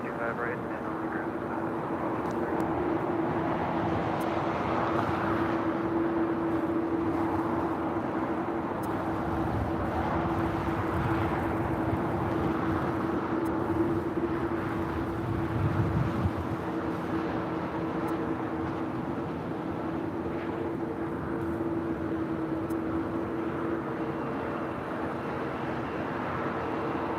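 Airplanes on the ground at LAX airport produce a steady, distant jet engine rumble and whine that holds throughout. A swell of low roar comes around the middle, and a voice occasionally talks over the engine sound.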